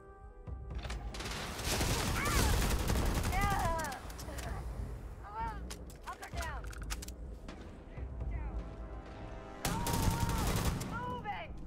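Rapid gunfire from a gun in Starfield rattles in bursts, mixed with synthetic chirping effects and distant shots, while a person talks over parts of it.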